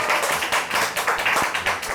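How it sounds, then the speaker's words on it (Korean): Brief burst of applause from a small group at a club presentation, quick overlapping claps at close range, steady for a couple of seconds with no talking. "박수 부탁해."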